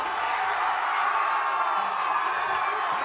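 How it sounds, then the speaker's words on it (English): A large crowd at a Valorant esports match cheers and roars in a steady, dense wash of voices, loud and continuous with no single speaker standing out. "I can tell by the way the crowd is cheering."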